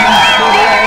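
A packed crowd at the grand final of a T20 knockout cricket tournament in Magam keeps up a dense, energetic roar of cheering and shouting, with a tambourine somewhere among the spectators and no break in the noise.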